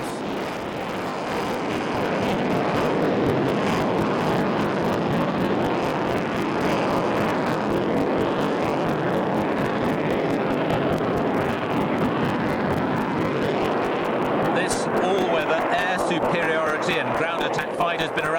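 Sukhoi Su-27 fighter jet flying at the Farnborough airshow in the UK, a loud, continuous broadband roar sustained throughout, with crowd or wind noise mixed in.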